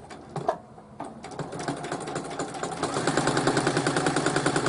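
Sewing machine backstitching and then stitching a seam on a pillowcase with an eyelet ruffle border, heard up close as a few short bursts that settle into a steady, rapid mechanical chatter, with no talk.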